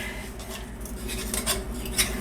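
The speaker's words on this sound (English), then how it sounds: "So the 2 spoons kind of mashing is the best method for me." Two spoons mash and scrape through a thick dye-free chocolate pudding mixture in a bowl, giving a steady run of soft metallic clinks and squelches at close range, with no talking.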